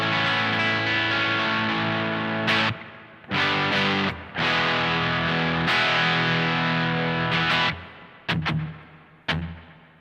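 Overdriven electric guitar played through a Vahlbruch Pipeline reverb pedal, loud sustained chords in several bursts with brief gaps where a reverb wash lingers, ending with short choppy stabs.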